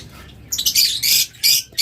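Birds at a bird farm give a run of loud, harsh squawks in several short bursts, close by, over a quiet background with no talking.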